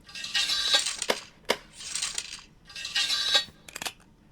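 A gun reload in an early-development indie shooter game, Forks and Fire, made of a few crisp mechanical clicks and bright metallic rattling bursts in an uneven rhythm, close and clear with no talk.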